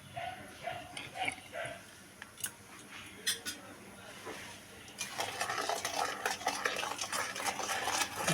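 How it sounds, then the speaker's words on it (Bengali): Palm juice kheer in a pot is stirred with a utensil, faint clinks and scrapes at first, then a denser, louder stretch of continuous stirring, with no clear talking. "ভালো করে মিশিয়ে নেব"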